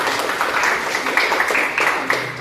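Brief burst of classroom clapping from students, a few seconds of uneven hand claps over a noisy room.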